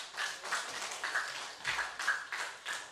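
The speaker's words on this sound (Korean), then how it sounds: "우리 하나님께 영광의 박수 올리겠습니다." Church congregation clapping during a worship service, a fairly faint, steady rhythmic applause heard from some distance.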